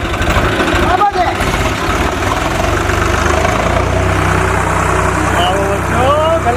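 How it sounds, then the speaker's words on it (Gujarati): A tractor engine idles with a steady low rumble throughout, while people talk over it nearby. "હું જોઉં છું કેવું જાય છે ટ્રેક્ટર"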